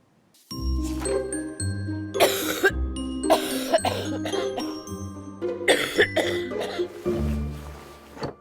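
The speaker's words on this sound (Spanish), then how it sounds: "Elimina la tos con flema." Several harsh, wet coughs with phlegm and throat clearing sound close up in a Vaporex cough remedy commercial, set against bright chiming tones and low musical notes.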